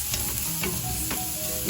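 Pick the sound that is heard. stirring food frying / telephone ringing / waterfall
stirring food frying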